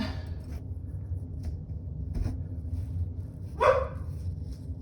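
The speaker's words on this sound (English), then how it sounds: "the dog is starting to bark" A dog gives a single sharp bark partway through, with a fainter yip earlier, over a low steady background rumble.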